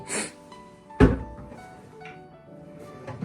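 A wooden drawer in the fitted furniture of a luxury bungalow bedroom shuts with a single solid thunk, followed by a few faint knocks and clicks in a quiet room.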